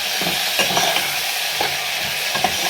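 Potatoes frying in a pan while being stirred, steady sizzle broken by repeated scraping strokes of a spatula, close and fairly loud.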